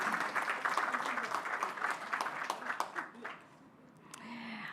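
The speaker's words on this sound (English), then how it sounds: "we need to give him and the entire group another round of applause" Audience applause at an office launch event, a dense crowd of claps rolling for several seconds, then tapering off as a voice starts speaking.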